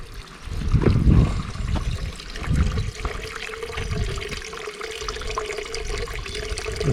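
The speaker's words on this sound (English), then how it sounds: "There the water runs out the hillside here." Water trickles out of a hillside beside the top lock cottage on a canal, a steady, gentle running flow heard close by with a few louder splashy surges early on.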